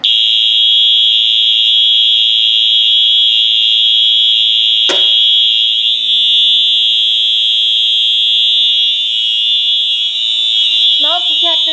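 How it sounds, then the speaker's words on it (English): A smoke detector in a newly installed alarm system is triggered with a test magnet and sounds one loud, piercing, continuous tone. A sharp click breaks in partway through, and a brief voice is heard near the end. "Smoke detector is activated."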